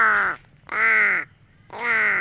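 Pet crows give three loud, close, harsh caws in the forest, evenly spaced with brief silences between them.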